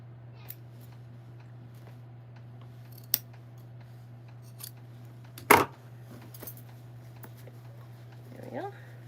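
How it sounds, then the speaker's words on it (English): Scissors snip through fabric during sewing: one loud, sharp cut stands out, with a few lighter clicks scattered around it, all over a steady low hum in a quiet room. "I'm going to trim a little bit more in the middle"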